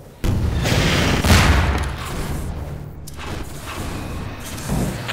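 Rifle fire and rocket explosions in Half-Life 2 Deathmatch: a loud, sustained burst of gunfire and booming blasts that begins abruptly, then a dense rumbling tail and a further blast near the end.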